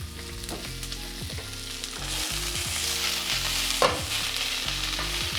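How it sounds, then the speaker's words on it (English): Cabbage, ginger, carrots and chili sautéing over high heat for Asian noodles give a loud, continuous close sizzle, with a low steady hum underneath and a brief clink. "saute it off and get the cabbage more al dente"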